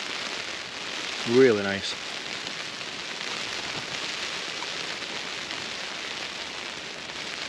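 Heavy, steady rain drums on a Robens Starlight 2 tent at a wild camp in Glen Etive, a dense even hiss throughout, with a short spoken remark near the start.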